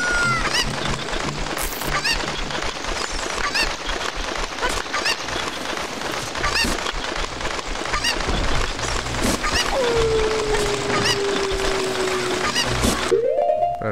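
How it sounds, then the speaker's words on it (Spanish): Cucco chickens in Zelda: Ocarina of Time squawk and cluck in a dense, continuous flurry of short honking calls over game sounds, with a rising electronic tone near the end. "Me acordé que pasó con esta pinche gallina."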